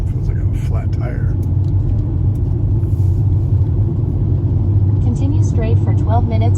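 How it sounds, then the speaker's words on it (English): Car on Interstate 385 heading toward Colorado from Texas, driving with what feels like a flat tire, gives a loud, steady low rumble with road roar throughout; there is no talk during it. "I'm now getting on Interstate 385. Feels like I have a flat tire."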